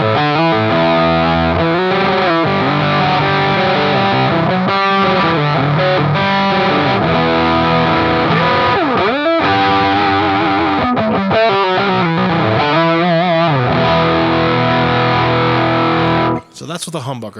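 Electric guitar with a humbucker pickup played through a fuzz pedal, giving thick, distorted sustained chords and bends at steady high volume, with the playing cutting out near the end.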